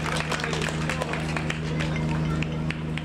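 Concert audience applauding for the band Ufo Lindenberg in Chemnitz: dense, steady clapping and crowd murmur with a constant electrical hum underneath, lasting throughout.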